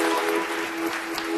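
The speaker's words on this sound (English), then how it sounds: "Let's have a round of applause for the volunteer." Audience clapping for a volunteer at a magic show, a brief, dense burst of applause heard at steady volume.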